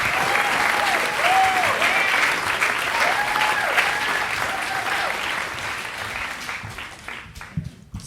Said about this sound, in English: Keep that applause going for William Weyerman.